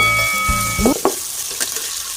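Chicken liver and giblets stir-frying with cauliflower in a hot pan, a steady close sizzle with a few scraping stirs of the spatula.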